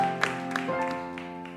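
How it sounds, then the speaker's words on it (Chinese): A church congregation claps during a Sunday worship service, scattered applause bursts over sustained music tones, brief and moderately loud. "让我们用最大的掌声将荣耀归给我们在天上的主"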